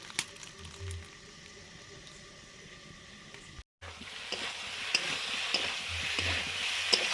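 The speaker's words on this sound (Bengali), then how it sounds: "ছোলার ডালটা হয়ে গেছে, ঢেলে নিচ্ছি।" Cooked chana dal pours into a hot pan of fried pumpkin and potato, and a quiet kitchen hiss gives way to a loud, steady sizzle with small crackles after a brief silent gap.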